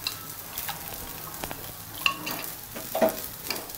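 Vegetables fry in oil on a dosa pan with a steady, close sizzle, broken by a few sharper stirring clicks and scrapes. No one speaks.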